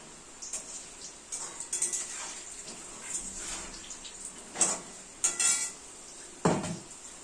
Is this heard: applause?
no